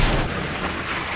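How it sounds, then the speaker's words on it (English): Naval guns firing in the Sea Power video game, in a 2020s battle of US Arleigh Burke and Ticonderoga warships against Russian Slava and Gorshkov ships: a single loud, heavy boom that fills the moment, with no voices. "Guns."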